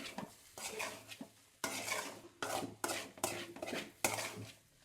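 Tomato rice is stirred in a metal pot with a utensil, giving repeated scraping and clinking strokes in an uneven rhythm, close and moderately loud, with no voices.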